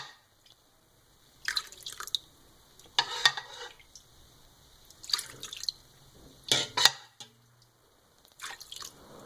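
Rice water for sweet black rice wine is poured over the rice in a container, giving a few separate bursts of dripping and splashing liquid with quiet pauses between them.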